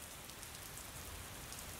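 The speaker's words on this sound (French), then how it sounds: "Dehors, la pluie continue de tomber." Steady rain falls outdoors, a soft, even patter on surfaces heard alone and fairly faint throughout.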